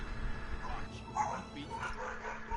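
Dogs bark and yip in a house while a Spider-Man game plays. The barks are short and mixed in with a voice and the game sounds.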